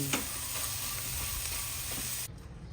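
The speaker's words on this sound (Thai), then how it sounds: "ผัดจนทุกอย่างสุกทั่วแล้วไม่ต้องรอให้แห้ง" Tomato and egg stir-frying in a pan: a steady, close broadband sizzle with soft stirring scrapes that drops to a quieter hiss near the end.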